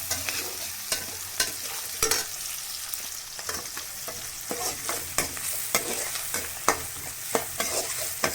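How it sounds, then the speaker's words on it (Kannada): Tempering sizzles in the same pan where okra was just fried, with a spoon scraping and stirring in steady bursts over a continuous crackle, close and fairly loud. "ಬೆಂಡೆಕಾಯಿ ಓದಿದ್ನಲ್ಲ, ಅದೇ ಪಾತ್ರೆಗೆ ಒಗ್ಗರಣೆ ಹಾಕಿದ್ದೀನಿ"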